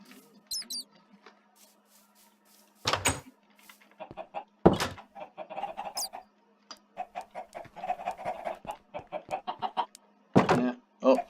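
Minecraft chickens cluck and chatter in bursts, with sharp thumps and clicks mixed in, mid-distance and fairly clear.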